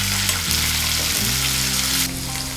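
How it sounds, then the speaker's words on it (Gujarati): Cut guar beans fry with garlic in a pan, giving a steady close sizzle while a utensil stirs them, with brief scraping shifts and the hiss easing slightly near the end. "અને ત્યારબાદ આપણે તેમાં કટ કરેલા ગુવારને એડ કરી દઈશું અને તેને સરસ રીતે મિક્સ કરી દઈશું."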